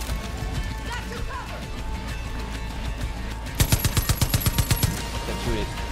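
Machine gun fire in Far Cry 5, a short rapid burst of about ten sharp evenly spaced shots cutting through steady game ambience, near and loud.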